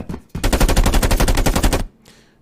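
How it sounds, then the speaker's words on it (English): Rapid burst of automatic gunfire from several guns firing at a monster in a video game under development, loud and continuous for about a second and a half, then cutting off abruptly with a short fading tail. "let's go ahead and shoot this monster with some of our guns"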